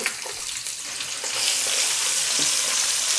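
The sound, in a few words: chopped onions frying with cloves and bay leaves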